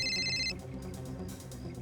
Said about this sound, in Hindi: क्यों फोन कर रहा है मुझे